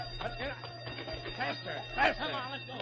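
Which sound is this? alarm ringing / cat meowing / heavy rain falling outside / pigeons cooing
alarm ringing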